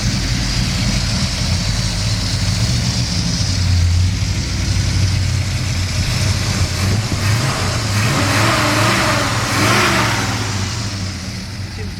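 A 1964 Ford Galaxie 500 with a 427 V8, four-speed and cast headers runs loud and close, a deep steady idle rising into a couple of throttle blips and revs before settling back, with a voice briefly heard over it.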